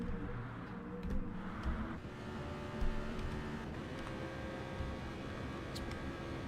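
GT3 race cars in Gran Turismo Sport run the Nurburgring GP circuit onto the front straight, their engines a continuous droning roar with steady tonal whine throughout and no speech over it.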